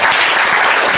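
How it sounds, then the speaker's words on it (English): A brief burst of loud, dense audience applause at a literary gathering, many hands clapping at once with no voices. "if we could get another big round of applause to Dato Shan."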